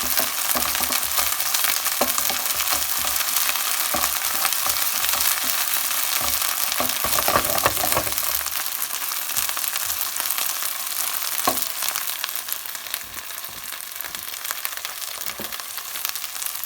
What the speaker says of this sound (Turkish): Şöyle otum kavruluyor.